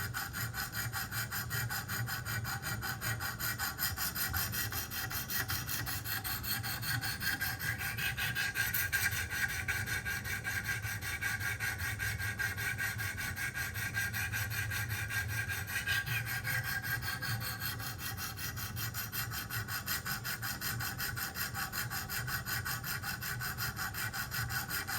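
Kershaw Emerson knife blade being sharpened on a Wicked Edge sharpener, a continuous rhythmic scraping and rasping of stone strokes on steel, close and steady throughout with no talking.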